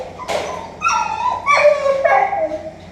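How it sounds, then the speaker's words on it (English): A dog in a crate whines and yelps in a series of high, wavering cries, several short bursts in a row, fairly close. "Hear the other dog reacting in there."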